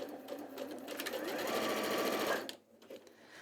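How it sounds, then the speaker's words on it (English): A domestic sewing machine stitches steadily off the edge of the fabric for over two seconds, its motor whirring close and loud, then stops abruptly, leaving a few faint clicks. "start to sew off the fabric"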